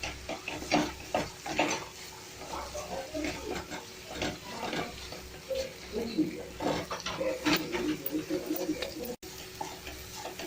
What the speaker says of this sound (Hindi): ये मसाला जितना भूनेंगे उतना इसमें टेस्ट आएगा, इसलिए हम इसको बहुत भून रहे हैं।